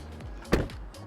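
A single solid thump of a Tesla Model S door shutting, close and fairly loud, with a low hum before and after.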